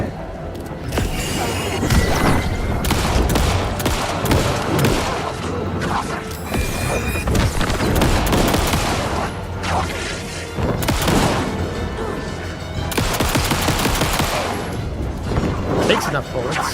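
Rapid gunfire from Alan Wake 2 fills the scene, repeated sharp shots and heavy impacts in dense bursts, loud and close throughout.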